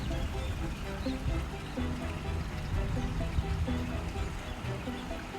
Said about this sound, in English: the tide is higher on the outs than the water in the channel, so water is flowing in. You can hear that water.